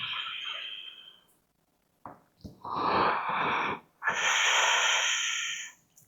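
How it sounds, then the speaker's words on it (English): A deep breath in and out during a yoga stretch, a long airy exhale that fades to silence, then a short sniff and a forceful, raspy inhale followed by a long breathy release, close and alone. "Nice deep inhale and deep exhale."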